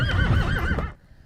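A horse neighs loudly and close by during a long ranch horse drive, one wavering whinny lasting nearly a second before cutting off to quiet.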